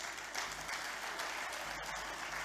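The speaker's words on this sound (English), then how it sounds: "Let's give him another round of applause." A round of applause from the audience at a book launch, dense steady clapping filling the room without a break, moderately loud and continuous throughout.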